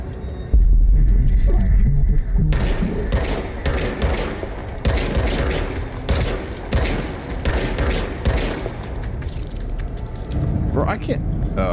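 Rapid gunfire from the service weapon in the video game Control, loud and continuous, with a dense run of sharp shots and heavy booming impacts over a low throbbing hum.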